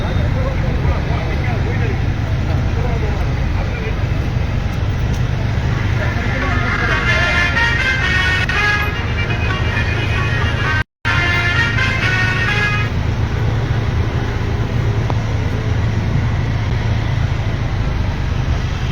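Steady road traffic hums throughout at close range, with engines and passing vehicles forming a dense background and a brief horn-like tone in the middle, all unbroken except for one short dropout.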